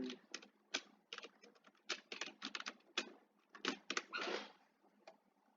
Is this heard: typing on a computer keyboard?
yes